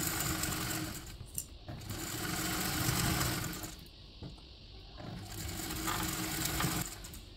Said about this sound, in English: now we are going to sew this together again at a 3/8 seam allowance